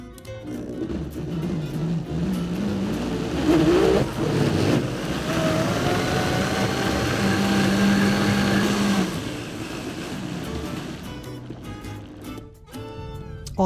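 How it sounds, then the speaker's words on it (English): A blender whirs through thick plant-based waffle batter made with Himalayan pink salt. The motor revs up and climbs in pitch, then holds a steady loud whine for several seconds before cutting off and winding down, with no speech over it. "we're just going to blend this up to a nice thick consistency"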